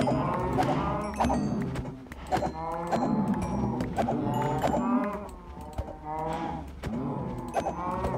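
Cows in the Minecraft modpack Stoneblock 3 moo repeatedly in a steady overlapping chorus of low, drawn-out calls, several animals close by with little else audible.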